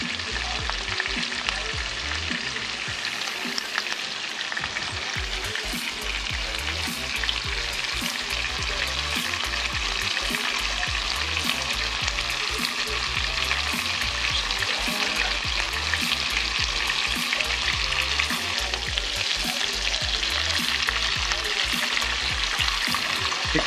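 A steak sears in a hot pan with a loud, constant sizzle and crackle that carries on unbroken and close by.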